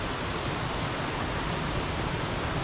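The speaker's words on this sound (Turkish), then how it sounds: "Burası o gölü besleyen, Karagölü besleyen derelerden bir tanesi. Gürül gürül akıyor şöyle." A mountain stream feeding Karagöl lake in Borçka, Artvin, rushes in a loud, continuous broadband roar of tumbling water, close and unbroken with no voices.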